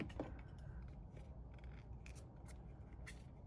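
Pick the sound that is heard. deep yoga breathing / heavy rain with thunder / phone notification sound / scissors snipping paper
scissors snipping paper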